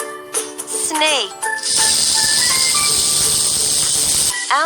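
A snake's sustained, loud hiss plays as an animal sound in a children's puzzle game, lasting about three seconds, with a voice speaking briefly just before and just after it.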